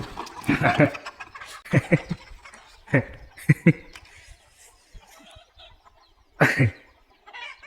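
Chickens cluck in short repeated bursts, fairly close, with quieter rustling and flapping between calls and a louder cluster of clucks near the end.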